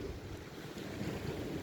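Sea waves by the shore in Croatia wash steadily as a soft, continuous surf rumble, with some wind noise on the microphone and no voices.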